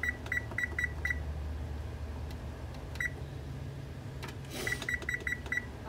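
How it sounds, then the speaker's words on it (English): Kitchen timer being set: several clusters of short, bright electronic beeps tapped in quick sequence, separated by pauses, fairly clear over a low steady background hum with no talk. "I'm gonna go ahead and do the timer"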